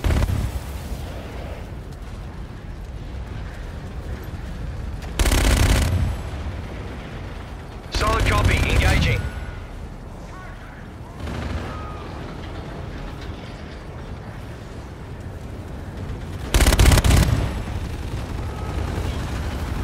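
Video game gunfire and artillery-like blasts in a combat scene, with heavy broadband bursts recurring every few seconds over a constant loud rumble of battle noise.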